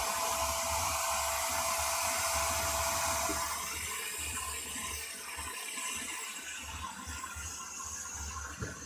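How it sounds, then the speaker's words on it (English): A VZBot 330 3D printer runs loudly with a steady whirring, fan-like hiss that drops a little after a few seconds, then continues as a constant mechanical drone with faint ticks. "this might be a louder printer than the Bamboo"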